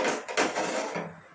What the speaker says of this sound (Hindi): जिस तरह आप मर्ज़ी चाहें इसको काटें, बड़े काटें, छोटे काटें